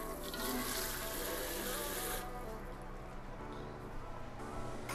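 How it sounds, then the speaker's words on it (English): Water poured into a pot of oxtail being cooked Jamaican style, a steady splashing pour of about half a cup that fills the first couple of seconds, then eases to a quieter trickle and settle. "I'm gonna add just a little bit of water,"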